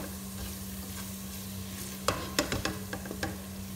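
Masala spice paste for aloo gobi sizzles steadily in a pan, then a spoon stirs it with a few sharp scrapes and clacks against the metal near the end.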